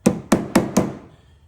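Four sharp hammer knocks on a cut piece of metal being folded inward, evenly spaced and close, ringing briefly and then fading to quiet.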